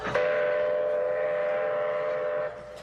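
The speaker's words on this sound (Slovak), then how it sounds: "Prišiel vlak." A train pulls in with a steady, loud whistle or horn tone that holds for about two and a half seconds and then cuts off, with rumbling rail noise underneath.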